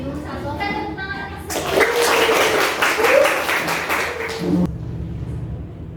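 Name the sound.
class applause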